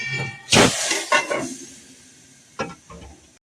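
Cumin seeds, curry leaves and other tempering spices hit hot oil with mustard seeds already popped, giving sharp bursts of hissing sizzle that fade back to a softer crackle, close and loud, with no talking.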